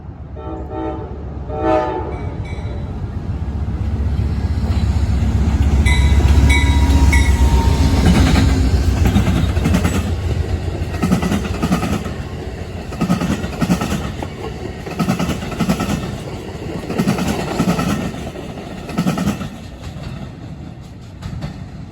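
A passenger train with a sleeper and a baggage car rumbles past, its horn sounding early, then a loud swell of engine noise and rhythmic wheel clatter over the rails that gradually recedes.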